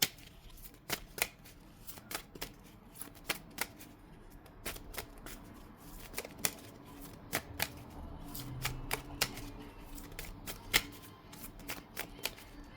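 Tarot cards shuffled by hand to draw a single card, a series of crisp riffling snaps and flicks at an uneven rhythm, close and fairly quiet over a faint background hum.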